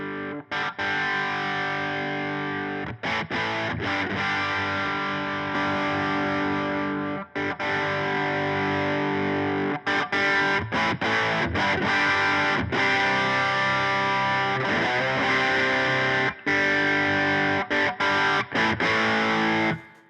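Electric guitar played through a Browne Amplification Protein overdrive pedal, sustained distorted chords ringing loud and full with a few brief gaps between strums, no talking.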